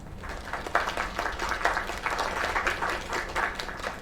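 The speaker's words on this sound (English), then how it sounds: "Another round of applause." An audience applauds after a singer's performance, with dense, steady clapping and some crowd noise lasting the whole stretch, fairly loud and close, and no clear speech.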